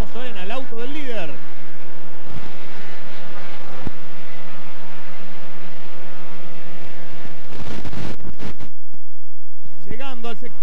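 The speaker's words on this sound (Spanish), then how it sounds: "Vamos a ver cómo suena el auto del líder." A 2004 Turismo Pista Clase 2 race car at a Buenos Aires circuit roars past with a rising and falling engine whine. Several louder passes stand out, and a commentator talks over a continuous mechanical drone.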